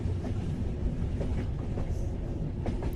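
Subway train running, a dense continuous rumble with faint rail clatter, loud and steady for the whole stretch with no voices.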